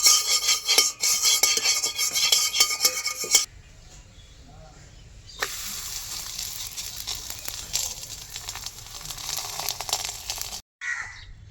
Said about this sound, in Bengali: এইভাবে আমি একটা একটা করে পরোটাগুলো ভেজে নেব।